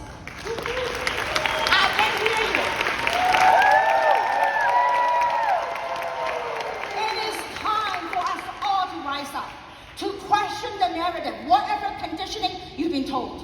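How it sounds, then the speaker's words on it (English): A crowd applauding and cheering, loud at first and then thinning out, with scattered shouts and voices. "Would you give us a big round of applause, please?"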